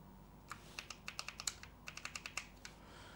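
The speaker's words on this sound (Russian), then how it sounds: "Одновременно нажимаю Ctrl-C" Keys are pressed on an Apple IIe keyboard with repeated Ctrl-C presses, giving about fifteen faint, crisp plastic clicks in two uneven clusters, close by in an otherwise quiet room.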